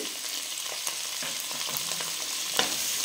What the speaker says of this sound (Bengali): একটু নাড়াচাড়া করে নিই। এটা বেশি ফ্রাই হবে না।